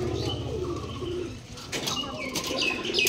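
Pigeons kept in a small abandoned space, close soft cooing in a low rolling rhythm, with a few brief chirps and wing flutters near the end.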